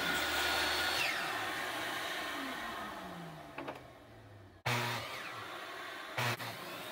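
A dust collection vacuum built from a recycled shop-vac runs loudly, its whine winding down and dropping in pitch, then abruptly starting up again with a steady roar, brief clunks heard along the way.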